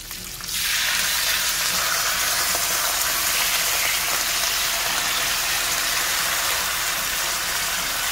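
Wine hits a hot pan of braised short ribs with a sudden loud hiss that settles into a steady, roaring sizzle lasting several seconds, with no talking.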